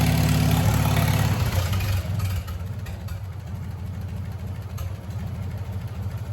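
A Farmall 400 tractor engine runs steadily at idle nearby, a loud continuous low rumble with a regular firing pulse and no talking over it.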